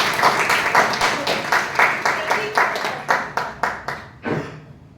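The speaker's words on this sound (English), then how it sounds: "So a round of applause for the Toastmasters." A small group at a Toastmasters club meeting claps in rhythmic bursts close by, the applause fading into a brief voice at the end.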